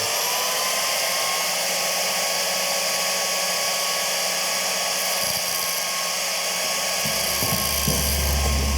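Rotary tool cutting a groove into a raised clutch pedal on a 26-year-old Honda Transalp motorcycle, a steady high-pitched whine grinding continuously at close range, with brief pitch dips as the bit bites.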